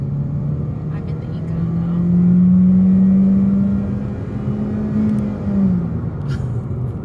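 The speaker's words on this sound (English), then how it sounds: "This is definitely the loudest car that we've driven" A loud car engine drones steadily from inside the cabin while driving, its low rumble swelling as the engine revs up and then settling, with a person talking over it.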